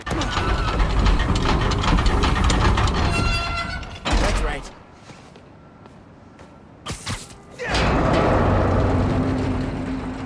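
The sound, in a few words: train running on tracks in the video game Spider-Man Miles Morales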